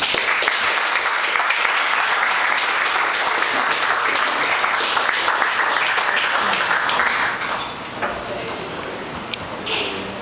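Applause fills a Philippine Bar Association event hall in Makati as a speaker is welcomed, loud and steady for about seven seconds before tapering to scattered claps.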